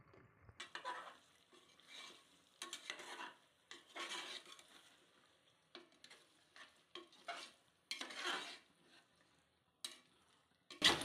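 Mushrooms fry quietly with tomato in a pan, stirred in bursts: scraping and clinking of a spoon against the pan come in uneven strokes over a soft sizzle, closing on a sharp metallic tap.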